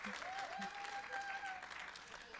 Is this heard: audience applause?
yes